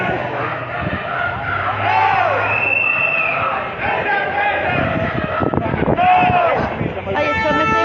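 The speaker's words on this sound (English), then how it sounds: "here's a crowd that likes a chant" Marchers at a Glasgow independence rally chant and shout loudly in a dense crowd, voices rising and falling in rhythmic calls, with whistles and closer talk mixed in.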